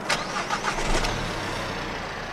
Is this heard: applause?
no